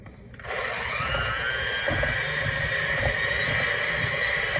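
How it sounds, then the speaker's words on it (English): An electric hand mixer whirs steadily and loudly as it blends butter and powdered sugar in a bowl, starting abruptly after a brief quiet moment and running continuously with faint scraping knocks against the bowl. "So we're going to go ahead and blend this all together with our hand mixer."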